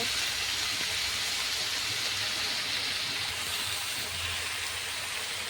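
Vegetables for Bengali shukto sizzling steadily in a frying pan, a continuous soft hiss with faint low crackle, with no talking over it.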